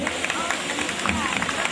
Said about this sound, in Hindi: दोस्तों एक बार और तालियां इनके लिए।